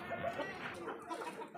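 Hens cluck softly in a small poultry shed holding about fifty chickens, low murmuring calls close by and fairly quiet.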